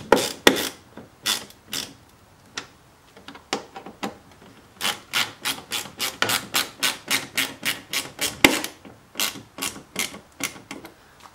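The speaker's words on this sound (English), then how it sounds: "then you can go ahead and tighten it up." A ratchet tightens a fastener on an ACS Composite rock guard fitted at a vehicle's fender. It makes bursts of rapid, close clicking strokes in quick repeated runs with short pauses between them.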